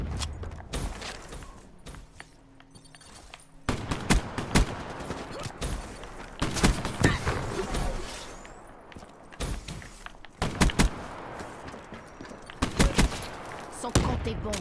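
Shotgun blasts from the Haymaker weapon in Black Ops 3, sharp loud bursts fired in irregular clusters amid in-game clatter and background noise, with a player's voice talking at times.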